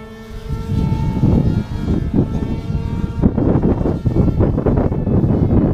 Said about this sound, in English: Jeez, that wind!